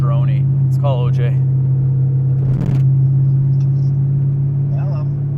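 A wide-body Porsche 911 with a swapped LS V8 drones through its exhaust in a steady, low, constant hum, while people talk over it.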